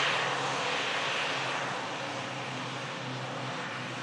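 A heavy RAF A400 transport aircraft flies over the top of an airfield, a steady broad engine roar that fades slightly as it passes, continuous and fairly distant throughout.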